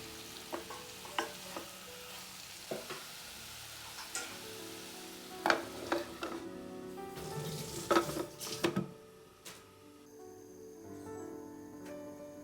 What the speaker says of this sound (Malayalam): ഇനി ഇതൊന്ന് നന്നായിട്ട് മിക്സ് ചെയ്തെടുത്ത ശേഷം 2 മിനിറ്റും കൂടി അടച്ച് വെച്ച് വേവിക്കാം.